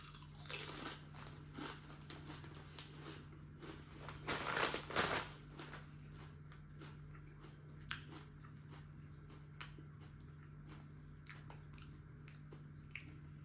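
Walker's crisps, bacon and chipolata flavour, are being eaten in faint, irregular crunches and bites, with a louder cluster of crunching partway through and scattered sharp snaps after it, over a quiet steady hum.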